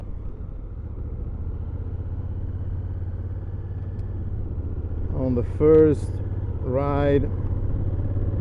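A brand-new Honda CRF1000 Africa Twin motorcycle rumbles steadily under way with a low continuous engine drone throughout, and someone speaks briefly over it toward the end.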